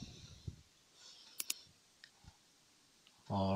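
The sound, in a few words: mouse clicking in Access database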